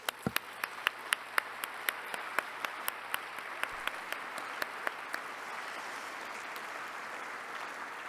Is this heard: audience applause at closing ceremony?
yes